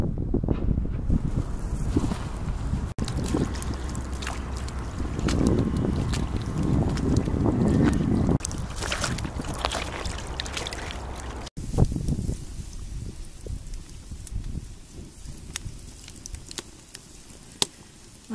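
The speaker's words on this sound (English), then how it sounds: "Lots of wind." Wind gusting across an outdoor river bed near a washed-out beaver dam, a loud, steady roar with heavy low rumble and buffeting on the microphone, easing to a lighter breeze for the final few seconds.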